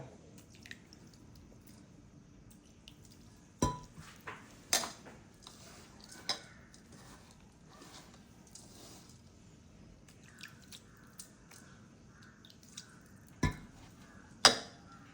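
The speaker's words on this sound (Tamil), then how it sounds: "இதில் வந்து தண்ணி ஊற்றி விரவ போகிறோம்" Samba wheat flour being mixed with water by hand for puttu, giving quiet, close squishing and sticky handling sounds, with scattered sharp clicks and taps against the bowl over a faint background.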